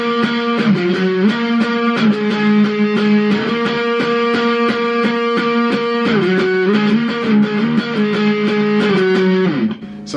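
Electric guitar playing an octave lead melody from a song, a steady run of clear, lightly driven doubled notes in an even rhythm, loud and alone with no voices.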